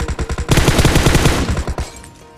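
Rapid automatic gunfire in PUBG Mobile during a rush in Rozhok, loud and close, firing in a steady stuttering rhythm of about a dozen shots that trails off into a fading echo.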